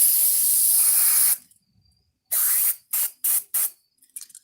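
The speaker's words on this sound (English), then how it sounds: "Take a can of carburetor cleaner." Carburetor cleaner sprays from an aerosol can in one long loud hissing burst, followed after a pause by three shorter bursts and a few faint ticks.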